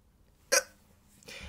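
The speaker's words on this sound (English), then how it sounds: "I still have the hiccups, which is not good news" A single sharp hiccup bursts out close to the mic, followed by quiet and a faint breathy sound afterward.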